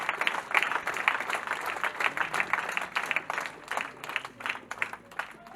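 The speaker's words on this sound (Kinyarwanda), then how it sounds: "Mwongere mukomere Imana amashyi." A church congregation at a Pentecost service claps for God, a fairly faint, dense crowd applause that swells and fades in uneven bursts over several seconds.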